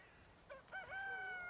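A hen in Valheim clucks and then crows in a rising, sustained call, faint and alone against quiet ambient background.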